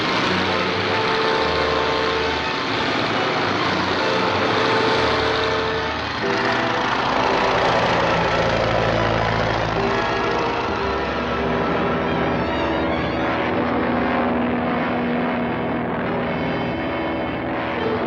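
A propeller airplane flies in a 1940 Royal Mounted western serial, its engine a steady, loud drone that runs unbroken for the whole stretch.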